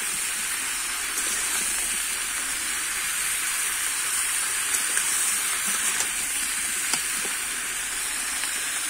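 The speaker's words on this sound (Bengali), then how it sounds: "আমি একটু ঢেকে ভেজে নেব" Raw jackfruit frying in oil inside a covered pan, giving a steady, even sizzling hiss that holds for several seconds with a few faint clicks and no voices.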